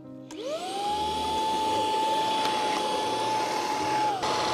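A Proscenic P11 cordless stick vacuum runs with its rotating sofa brush, a steady motor whine holding a clear tone throughout after a quick spin-up, loud and close, winding down at the very end.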